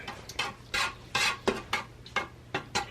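A spoon stirs milk-based cheese sauce in a pot, producing about eight distinct scraping sweeps against the metal in a quick, regular rhythm, close and fairly quiet with nobody speaking.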